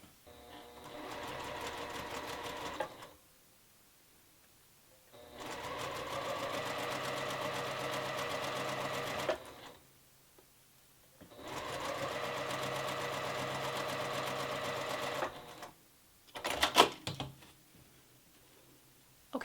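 A sewing machine stitches quilt pieces in three long, steady whirring bursts separated by pauses, with a short clatter near the end.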